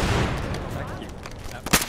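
Gunfire in a squad-based military shooter video game, a dense, steady rattle of shots through the clip with a sharper, louder burst near the end.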